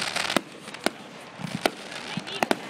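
Fireworks go off in the distance as sharp, scattered pops and bangs, irregularly spaced, over a constant hiss of outdoor background noise.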